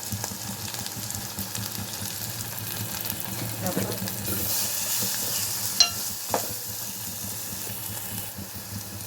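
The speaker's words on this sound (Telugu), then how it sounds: "ఒక స్పూను అల్లం వెల్లుల్లి పేస్ట్ పచ్చివాసన పోయే వరకు ఆయిల్లో ఫ్రై చేసుకోవాలి" Ginger garlic paste frying in oil for a fish gongura curry, a steady low sizzle with faint stirring and a couple of soft clinks, fairly quiet and constant throughout.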